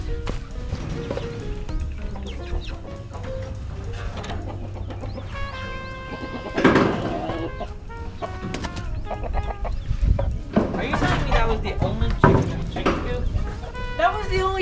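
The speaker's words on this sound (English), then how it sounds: "That's my chickens for the morning." Chickens cluck and cackle around a farm chicken coop on a spring morning, close by and busy, with overlapping bird calls and some shuffling movement.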